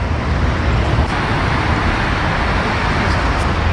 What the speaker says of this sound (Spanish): ¿cuántos carros pasan por aquí? Muchos.